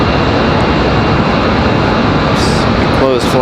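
A Delta airliner at Raleigh-Durham International Airport makes a steady, loud jet roar that fills the clip from start to finish, with brief bright chirps and other faint noises on top near the end.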